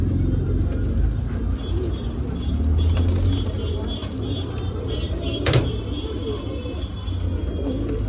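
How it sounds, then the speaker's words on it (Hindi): Pigeons kept for sale, pure Saharanpuri and Kangri hens among them, coo in low soft murmurs through a steady background hum, with a brief flutter or knock midway and someone speaking now and then. "बेहतरीन क्वालिटी का कबूतर है"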